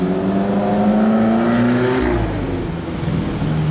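Alfa Romeo 4C Spider fitted with a non-original aftermarket exhaust, its engine droning loud and close with a steady rising note that eases off midway, no talk over it.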